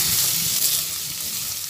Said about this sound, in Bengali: পোস্ত দেওয়ার পরে আবার চিচিঙ্গাটা নাড়াচাড়া করে ভেজে নিচ্ছি।